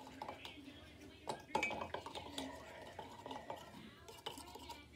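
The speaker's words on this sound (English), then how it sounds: "now you're just gonna wanna stir it up" A spoon stirring a homemade fake vomit mixture in a bowl, with soft scraping and clinks of utensil against the dish, quiet and close, with a sharper knock in the middle.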